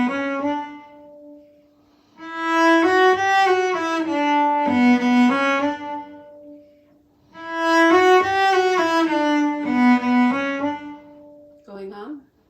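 A cello plays the first bars of the B part of The Road to Lisdoonvarna, close and loud, in two matching phrases separated by a held low note, then a brief final sound.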